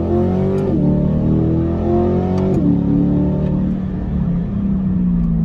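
A 2020 Chevrolet Corvette with a dual-clutch transmission accelerates hard, its engine rising in pitch through two quick upshifts before settling into a steady drone, loud and close from inside the car.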